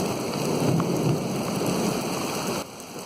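Dense rain and hail hiss and patter steadily in a mountain thunderstorm, with low thunder rumbling beneath, fairly loud and continuous before easing slightly near the end.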